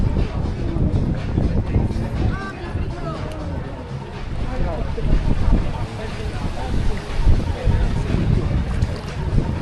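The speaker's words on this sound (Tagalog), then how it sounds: "Oh my God, it's so windy." Strong wind buffets the microphone on a boat ride in Dubai, a loud continuous roar over water and waves, with people talking and exclaiming throughout.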